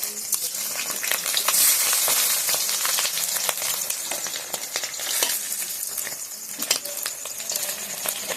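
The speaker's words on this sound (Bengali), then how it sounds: "তো আমি এভাবে ডিমগুলা ভেজে নিয়ে আসি।" Fish roe sizzling and frying in a pan, a steady dense crackle with occasional stirring clicks and scrapes, close and fairly loud throughout with no talking.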